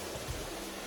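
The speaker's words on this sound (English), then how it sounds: "As you can see, we got a nice little creek behind us." A small creek flows beside an Appalachian Trail camp, a steady, soft rushing of water with no other sounds.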